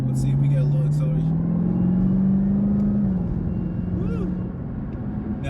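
A supercharged V8 in a 2023 Camaro ZL1 with 650 horsepower accelerates hard from inside the cabin, a loud rising engine drone that climbs in pitch, holds, then drops at a shift. Some faint talk rides over it.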